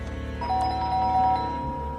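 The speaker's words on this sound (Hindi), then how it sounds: "डोरबेल बजाई" A two-tone electronic doorbell chime rings once, clear and fairly close, over a faint low background hum.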